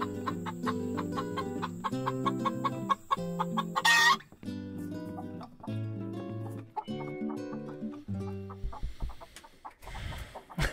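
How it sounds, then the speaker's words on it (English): Chickens cluck in a busy, overlapping flock with a rooster crowing loudly partway through, the hens' calls continuing in uneven bursts with no talking. "And more chickens."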